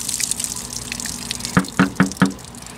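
Water glugs out of a plastic water jug holed by a rifle bullet, in four quick gushing bursts close by after a quieter stretch of outdoor background.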